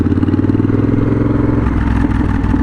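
Custom Triumph Bonneville Bobber motorcycle engine running steadily close by, a loud continuous low throbbing rumble with a slight shift in tone partway through.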